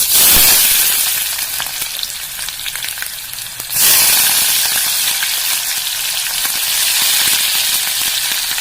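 Cinnamon, cloves, fennel, curry leaves and onion hit hot oil for tomato rice, setting off a loud close sizzle that surges as more goes in, then settles into a dense crackling fry.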